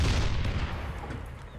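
A ship's direct-fire cannon in a video game fires a single heavy boom that starts loud and rumbles away over a second or so.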